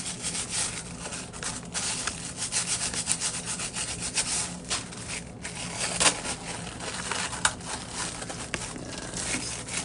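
Foil on a decorated egg being scrubbed by hand, producing a continuous close rubbing and scratching texture with uneven strokes and small crinkles.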